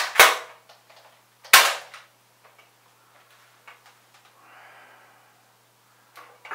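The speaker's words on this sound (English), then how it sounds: "Crappy engineering and Nerf guns." Two sharp, close snapping shots from Nerf toy guns about a second and a half apart, followed by quieter clicks, rattles and a brief mechanical whir, with a third snap near the end.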